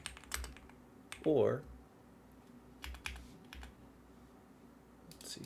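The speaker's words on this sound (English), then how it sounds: "Let's see if I could actually type this." Typing on a computer keyboard in short, quiet bursts of clicking keys, close by, with a person speaking briefly between the strokes.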